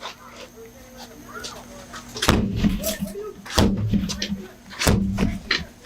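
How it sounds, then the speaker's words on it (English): Police forcing open a door: three heavy, sharp impacts about a second apart, booming close by, with officers talking and shouting between the blows. "Yes, we are going to break the door."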